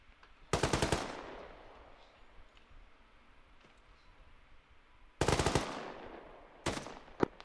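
Machine gun bursts aimed at range targets in ArmA 3, with two loud, sharp rapid bursts that ring out against a quiet outdoor background, followed by a shorter third burst near the end.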